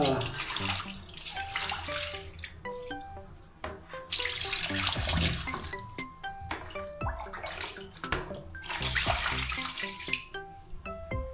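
Water runs steadily through a homemade bathroom drain during heavy rain, a continuous splashing, gurgling flow under music with clear tonal notes, fairly close and moderately loud.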